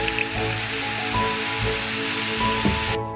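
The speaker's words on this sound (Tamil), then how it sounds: "இப்போ நம்ம லைட்டாக தண்ணி தெளிச்சுக்க போகிறோம்" Water lightly sprinkled over egg noodles cooking without oil in a pan, a steady close hiss and sizzle like spray with faint clinks, continuous throughout with no speech.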